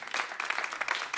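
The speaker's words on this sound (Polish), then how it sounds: "Wielkie brawa." Audience applause closes a jazz concert set, a brief burst of steady clapping from a crowd, fairly faint and dense with no voices over it.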